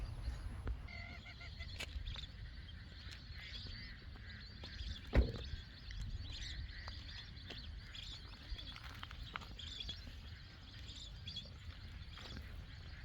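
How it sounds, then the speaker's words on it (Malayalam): Ducks swimming one after another in a line on the water near paddy fields at a sunset viewpoint in Kaipuzha, heard as faint, scattered honking calls over a steady outdoor background hum, with one louder call in the middle. "ഒന്നിനു പുറകെ ഒന്നായി വരിവരിയായി നീന്തിപ്പോകുന്ന താറാവുകൾ ഇവിടുത്തെ മനോഹരമായ ഒരു കാഴ്ചയാണ്"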